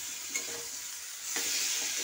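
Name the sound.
stir-frying soybeans and potatoes in spices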